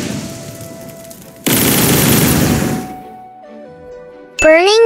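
The fire bullets attack from the Flame devil fruit in the Roblox game Blox Fruits lets loose a dense, loud burst of rapid crackling fire. A hum comes before it, then a ringing chime at the end.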